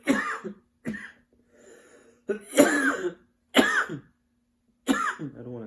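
Several hard, raspy coughs come in separate bursts, close and loud, from someone who has just smoked weed, with short quiet gaps and a faint hum between them.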